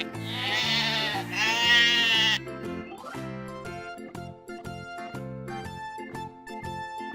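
A toy farm animal plays a recorded goat bleat, a loud wavering cry at the start, followed by a bright, jingly electronic tune with a steady bouncing beat.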